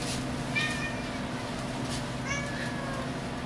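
A cat meows twice in a quiet room, short rising calls over a low steady background hum.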